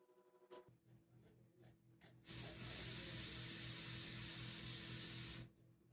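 Pencil shading strokes on paper during a beginner sketching lesson: a few faint scratchy taps, then a steady rubbing hiss of continuous shading for about three seconds before it stops.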